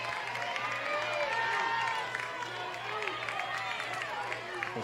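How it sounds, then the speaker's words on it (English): Crowd noise from fans of both teams at a 4A state championship softball game, Lake Central versus Terre Haute North, a steady wash of cheering and chatter across the stands with a constant low hum underneath. "As both fan bases trying to cheer on their respective player."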